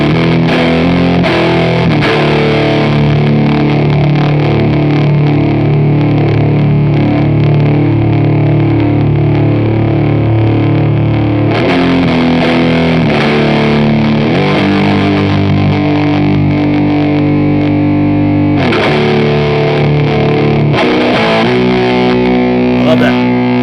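Electric guitar driven through a Midnight Ritual fuzz pedal with the gain maxed roars in thick, saturated chords and sustained notes, loud and continuous with a few shifts in pitch.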